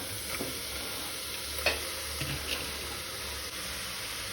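Chopped Malabar spinach is tossed into a hot pan and stirred, giving a soft steady hiss with a few light scraping and clinking strokes, one sharper tap near the middle, moderately quiet and without speech.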